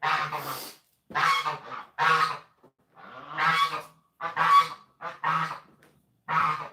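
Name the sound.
geese honking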